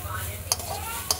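Beetroot sizzles steadily in oil in a frying pan while being stirred for beet-and-carrot halwa, with two sharp scrapes of the spoon against the pan at regular intervals over the continuous fry.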